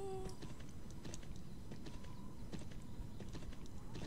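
Horse hooves clip-clop steadily in the video game Champions of Regnum, a continuous rhythmic patter of hoofbeats mixed with game ambience and brief tonal effects.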